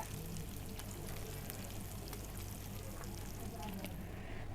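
Tengra fish shallow-frying in oil in a pan gives off a steady, faint crackling sizzle that runs unbroken throughout, with a low murmur of background sound beneath it.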